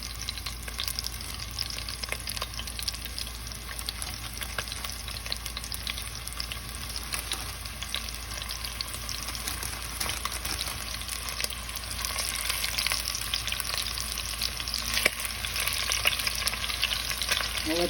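Sausage and meatballs fry in a pan with a steady, dense sizzle that stays close and even, and the crackle grows slightly louder toward the end.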